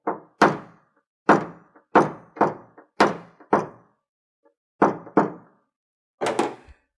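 A paintless dent repair knockdown tool taps a car body panel to flatten a dent, making sharp, close thunks in uneven pairs with short pauses between bursts.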